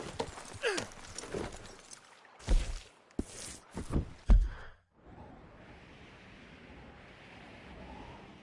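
Horse hooves in Red Dead Redemption 2 thump in a quick cluster of close, heavy beats midway, then give way to a soft, steady rush of wind.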